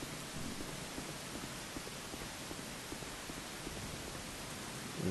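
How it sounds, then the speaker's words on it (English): Steady rain falls in a video game as a constant soft hiss, faint and even, with scattered light patters through it and no voices. "I like this rain."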